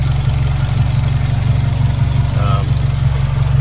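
A Mitsubishi Evo X engine idles while running rich, a steady low rumble with a fast, even pulse, loud and close, heard on its own throughout.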